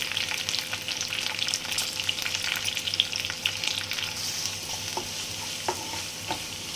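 Garlic sautés in a hot pan with a continuous loud sizzle and crackle, broken by occasional stirring scrapes, and no one speaks.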